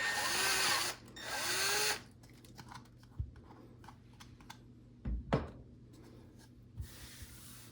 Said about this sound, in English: The second hole we're going to drill is for the injection port.